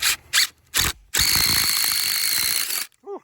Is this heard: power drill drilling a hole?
yes